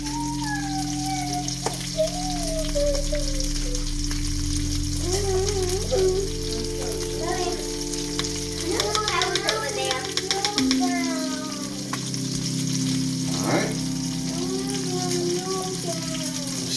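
Salmon fillets frying in butter in a pan give a steady soft sizzle with occasional stirring clicks, running under a person talking and a tonal background.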